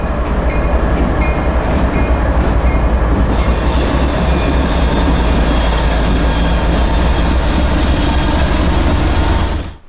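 Freight train rolling through Taft Yard on the Florida A Line: a loud, continuous, close rumble with a deep low drone, squealing wheels and rattling cars lasting the whole time.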